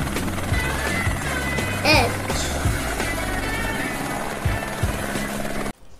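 A helicopter whirs with a steady rotor chop and engine drone, held at a constant level, while a voice briefly says a single letter, before the sound cuts off abruptly near the end.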